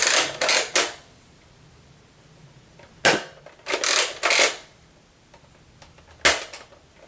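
A Nerf Zombie Strike Scravenger blaster fires foam darts in sharp bursts, each shot a loud snappy pop with a brief spring-and-plunger clatter, heard close up in uneven groups across several seconds.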